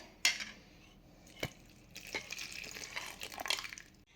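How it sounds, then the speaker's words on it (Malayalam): Yeast mixture poured into a bowl of pizza-dough flour with a gentle splashing trickle, preceded by a couple of light clinks, close and fairly quiet. "ഈ ഈസ്റ്റിൻ്റെ മിക്സ് നമുക്ക് ഈ മിക്സിൻ്റെ അകത്തോട്ട് ഒഴിക്കാം"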